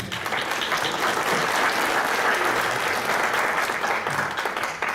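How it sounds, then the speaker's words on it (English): Conference session audience gives a big round of applause for a procurement officer, a continuous, fairly loud wash of clapping filling the room without pause for the full stretch. "Big round of applause for Michael."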